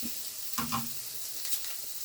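Potato, leek and pork sausage sizzle quietly in a pan, a soft steady frying hiss with a brief stir or clatter partway through, faint and without talk.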